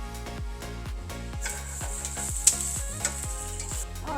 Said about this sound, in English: So we'll just saute those just for a few minutes here.